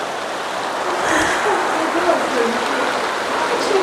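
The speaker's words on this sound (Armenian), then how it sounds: "Անձրևն է գալիս է" Rain falls steadily in Azatek village, a continuous close hiss and patter heard from just inside shelter, with faint voices underneath.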